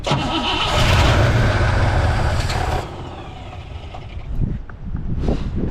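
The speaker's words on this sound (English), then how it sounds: "Makes strange noises when it shuts off." A 1963 Pontiac Catalina engine runs loudly, then cuts off abruptly, followed by irregular knocks, clunks and rattling sounds as it winds down.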